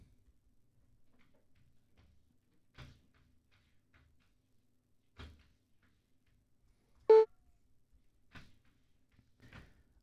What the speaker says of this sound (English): The cat is assaulting my door.